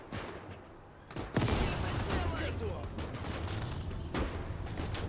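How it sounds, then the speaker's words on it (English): Mortar fire in the WWII video game Call to Arms: Gates during a 1944 Soviet advance, a heavy boom followed by sustained rumbling battle noise and further blasts, loud and close. "Mortars."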